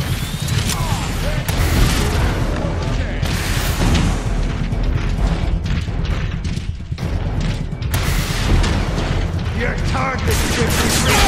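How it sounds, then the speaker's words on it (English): Incoming rocket explosion in the Transformers: Rise of the Dark Spark video game, dense loud booms and blasts amid clanking mechanical gunfire and metallic clatter, with bursts of voices over the barrage. "Rocket incoming! Watch out!"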